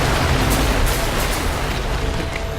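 A mine explodes in the video game Tomb Raider (2013), a loud sustained broadband boom and rumble that fills the whole moment with no speech.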